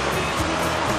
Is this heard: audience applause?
no